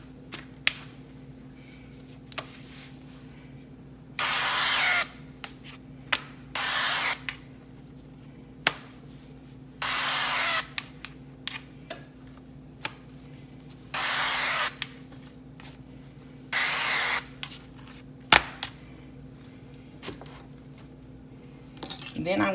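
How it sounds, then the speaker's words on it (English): Several short, hissing bursts of non-stick vegetable cooking spray onto both sides of tortillas in separate groups, with quiet pauses and light handling noises between them. "I'm going to spray both sides of them with some non-stick vegetable cooking spray."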